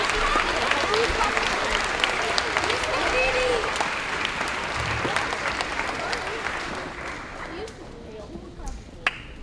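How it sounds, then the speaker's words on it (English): Sustained applause from a crowded room at a 5th grade moving-up ceremony, dense steady clapping that holds for several seconds before thinning out toward the end. "Can we have a big round of applause for those people in the room who have been part of your journey also?"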